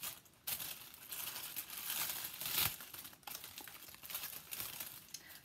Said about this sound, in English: this is my palettes. So I'm just going to unwrap.